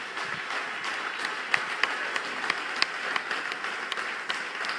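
A church congregation applauding during a Sunday service, a sustained patter of many hands clapping at moderate distance with a few sharper claps standing out.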